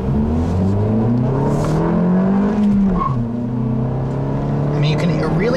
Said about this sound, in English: Feel that the engine kind of falls out of its power band once I put it into second.